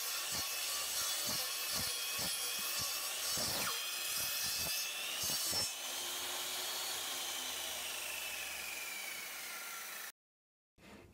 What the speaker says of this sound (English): with your arm saw, just go pull it across